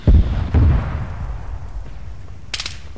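A grenade blast in the military shooter game ArmA 3, with two heavy low booms in the first second fading into a rumbling tail, then a brief sharp crackle near the end.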